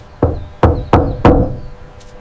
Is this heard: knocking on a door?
yes